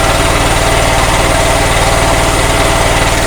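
A small softwash trolley pump engine runs steadily near 1500 RPM at low pressure, a loud, continuous throbbing drone with no clear rise in speed and no voices.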